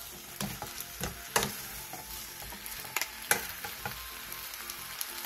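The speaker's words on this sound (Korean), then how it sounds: "중불로 줄여 양파의 숨이 반 정도 죽을 때까지 약 5분 정도 더 볶아주세요" Onions stir-fry in a pan over medium heat, a soft, steady sizzle punctuated by intermittent spatula scrapes and taps, quiet and close with no voices.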